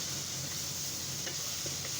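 Keema with garam masala sizzles softly in a pan while being stirred, a faint continuous hiss with light scraping, close and without talk.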